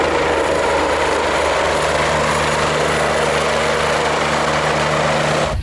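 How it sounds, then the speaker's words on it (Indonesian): A red ambulance helicopter roars loudly and continuously nearby, its rotor and engine whine steady until an abrupt cutoff. "ada helikopter berwarna merah. Wah, ada suaranya. Ini helikopter ambulan."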